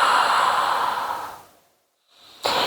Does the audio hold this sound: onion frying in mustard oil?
no